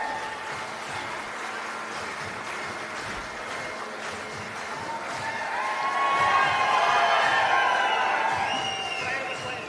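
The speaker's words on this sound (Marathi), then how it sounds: "त्यांचं मी जोरदार टाळ्या वाजवून आपण स्वागत करायचं आहे." Crowd at a political rally applauding, a broad wash of clapping and cheering that swells halfway through and stays loud, with a voice on a loudspeaker heard over it.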